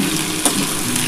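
Potato and ridge gourd pieces fry in a pan, a steady, even sizzle with one small pop, close and fairly loud, and no voices.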